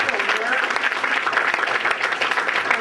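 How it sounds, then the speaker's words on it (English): A lecture audience claps in steady, dense applause that fills the room from start to finish at a moderate level. "you all give Mo another round of applause"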